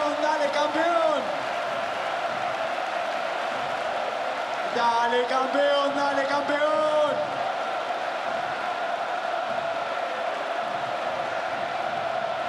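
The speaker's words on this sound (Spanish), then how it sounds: "¡Ovación para los tres!" A stadium crowd roars in a sustained ovation and cheers during a farewell tribute to Argentine footballer Maxi Rodríguez, with an amplified announcer's voice booming over the steady wall of noise.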